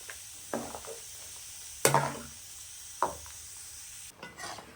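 Grated coconut and onion cooking in a pan for a mutton gravy, stirred with a few distinct scraping strokes and soft clinks against the pan over a quiet low sizzle, close but faint.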